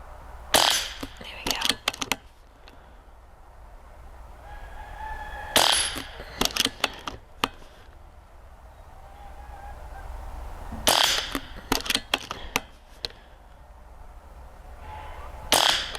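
Barra 1100Z .177 caliber PCP air rifle firing at outdoor targets: a few sharp cracks, each followed by quick ringing metallic target hits, separated by quiet pauses, with faint background ambience.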